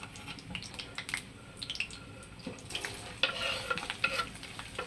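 Finely chopped small onion frying in oil with bay leaves and cinnamon pieces, a fairly faint crackling sizzle with scattered pops and spatula stirs that grow busier toward the end.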